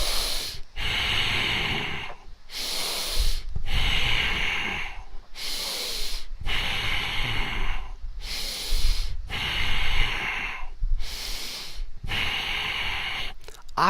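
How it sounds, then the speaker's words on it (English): Deep, rhythmic breaths drawn in and pushed out during a seated desk workout, about eight strong repeated breath cycles close to the mic, each a loud hissing rush separated by short pauses. "Breathe in."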